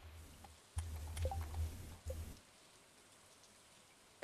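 Rain falling in Stardew Valley, a soft steady patter across the whole stretch with a few brief louder thuds near the start, quiet and alone.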